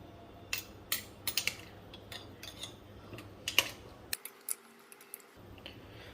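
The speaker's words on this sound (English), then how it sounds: "let me just get a spoon to push this down." A spoon clinks and scrapes against a jar while pushing fruit pieces down for pickles, a series of sharp close taps and knocks at irregular intervals with no talking.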